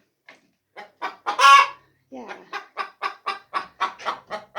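An Isa Brown hen in a stir gives a loud, drawn-out squawk followed by a long series of rhythmic, evenly spaced clucks, close up, with a brief spoken word in between.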